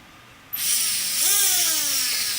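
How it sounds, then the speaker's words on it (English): An electric motor on an RC helicopter spins up abruptly into a high, steady whine, close and loud, with its pitch shifting slightly as it runs. "And now we're going to want to see if the motor works."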